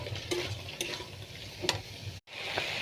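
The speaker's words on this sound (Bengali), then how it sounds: "সোয়াবিন, ওলকপি, আলুটা দিয়ে ভালো করে কষিয়ে নেব।" Soybean chunks, kohlrabi and potato frying in a pan with turmeric, salt and ginger-cumin paste, stirred with a few distinct scraping strokes over a steady sizzle, close and moderately loud, with a brief dropout near the end.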